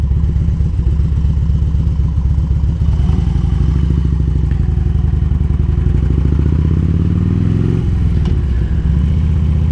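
A Harley-Davidson Road King motorcycle cruising by a lake at sunset, its engine a loud, steady rumble close by with a brief shift in pitch near the end.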